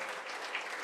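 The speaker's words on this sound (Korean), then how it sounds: "힘찬 박수 부탁드립니다" Applause from a lecture audience at a civic lecture, a brief dense wash of clapping that is steady and fairly loud throughout.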